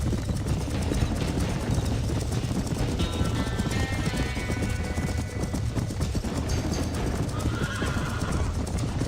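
Frightened horses whinny and neigh repeatedly inside a burning barn in Red Dead Redemption, over steady hoof clatter, crackling fire and shouting voices, loud and close throughout.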